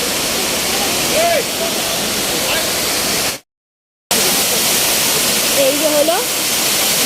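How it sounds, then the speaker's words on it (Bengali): Bamboo Falls, a waterfall in the Ayodhya hills of Purulia, gives a steady broadband rush close by, with someone talking over it and a short dropout of total silence midway. "এই যে জলটা এখান দিয়ে নেমে যাচ্ছে"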